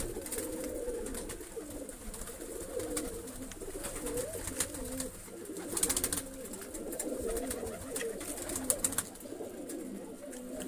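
Pigeons coo softly and repeatedly in a loft during bad weather, low rolling calls layered over faint background noise and a few brief sharper sounds.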